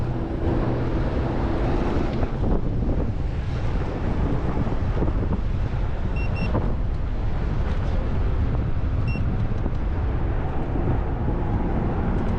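Strong gusty wind roars and buffets across the microphone throughout a ride on a Hiboy S2 Max electric scooter in Las Vegas, a continuous loud rushing that covers everything else.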